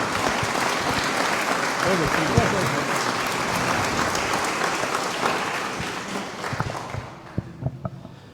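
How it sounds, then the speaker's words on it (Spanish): A crowd gives a strong burst of applause to welcome a doctor invited to speak on local history in San Miguel Escobar, Guatemala. The clapping is loud and continuous, then thins to a few scattered claps near the end. "recibámoslo con un fuerte aplauso, doctor Miguel"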